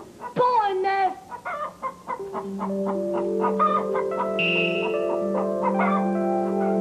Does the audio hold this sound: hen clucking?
yes